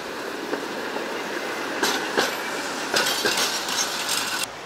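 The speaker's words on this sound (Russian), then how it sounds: "А вот, кстати, новый трамвайчик" A tram rolls past on rails in Izhevsk with a steady rumble, rhythmic clicks over joints and a faint wheel squeal, fairly close.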